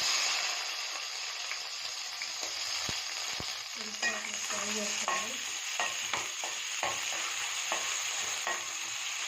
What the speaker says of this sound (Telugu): ఇప్పుడు ఉల్లిపాయలు వేసేస్తున్నా.